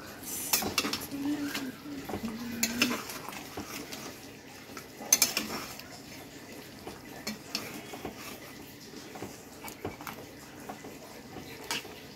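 A spoon stirs chicken coated in coriander and green chili paste in a metal pot, with soft scraping and clinking strokes at an irregular pace and faint background noise, close and fairly quiet.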